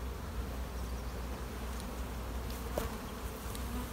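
Honey bees buzz inside an open beehive during an inspection of frames of developing brood, a continuous close hum with a few sharper passes of individual bees near the end.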